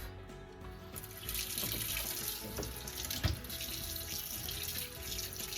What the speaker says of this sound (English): I'm going to begin by washing this off.